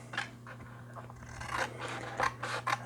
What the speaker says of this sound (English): and then you cut them out because you need 3 pieces